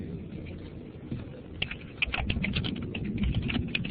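Someone types a command on a computer keyboard, a quick close run of key clicks that grows busier and louder over a few seconds.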